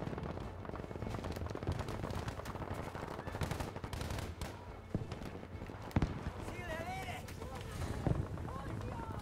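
Gunfire in the video game Battlefield V, scattered shots and rapid bursts mixed with running footsteps, fairly faint throughout, with a few sharper nearby cracks while a person talks.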